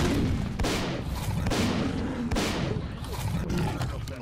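Gunfire in the S.T.A.L.K.E.R. Faction Wars video game, several heavy, evenly spaced shots about a second apart over a constant roaring, rumbling background, loud and close.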